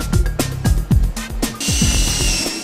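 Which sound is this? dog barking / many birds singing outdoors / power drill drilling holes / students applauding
power drill drilling holes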